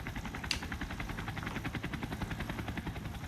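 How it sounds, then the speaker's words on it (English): A helicopter in the video game Persona 4 Ultimax, its rotor chopping in a steady, rapid pulse over a low engine drone, continuous and moderately quiet, with a single brief sharp tick near the start. "It's a helicopter."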